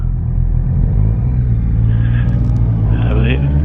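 Cars and other road traffic driving past at night, a steady loud engine rumble heard from a motorcycle on the move, with a voice talking over it.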